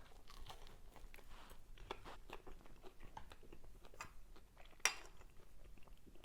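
Someone bites into a hot Polish pierogi with cheese filling, quiet close-up chewing and soft crunchy bites with small utensil clinks and one sharper clatter near the end.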